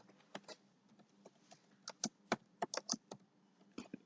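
Quiet keystrokes on a computer keyboard while code is typed, irregular bursts of sharp clicks with short pauses between them, close and alone.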